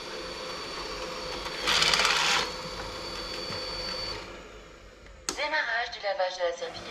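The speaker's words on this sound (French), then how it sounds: "Démarrage du lavage de la serpillière." A Roborock S7 MaxV Ultra dock washes the robot's mop with a steady mechanical whir, swelling briefly into a louder scrubbing, splashing burst before easing off; a voice starts speaking near the end.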